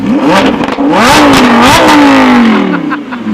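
A Lamborghini Huracán with a Ryft exhaust revs hard and loud, pitch sweeping up and down through several throttle blips before settling into a sustained high roar.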